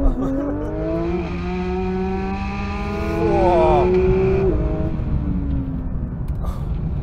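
A Porsche 911 GT3 launches hard from a standstill, its engine climbing through a rising rev sweep with a gear change midway, then pulling on loudly and close while the tires scrabble for traction.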